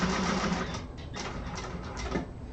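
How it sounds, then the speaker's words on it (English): A sewing machine chain top stitching garment linings runs in a quiet, continuous whirr with faint rhythmic ticking, steady and close, dipping briefly midway before picking back up. "So I'm going to chain top stitch these like I did when I sewed them together"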